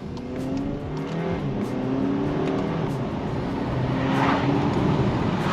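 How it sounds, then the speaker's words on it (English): A 2023 Volkswagen Arteon R-Line engine revs and builds steadily, a continuous rising drone that grows slightly louder toward the end, heard from inside the vehicle. "great acceleration"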